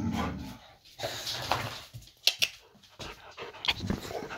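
A healthy dog pants rapidly and close by in uneven bursts, with a few faint whimpers and small knocks between breaths.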